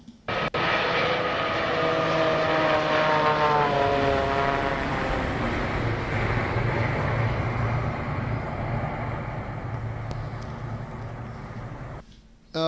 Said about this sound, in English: Now let's hear it in comparison with the Air India Boeing 787.